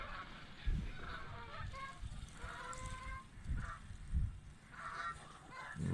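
Geese honk repeatedly in irregular bursts during a goose hunt, several low-flying calls overlapping at moderate distance outdoors, with no talking.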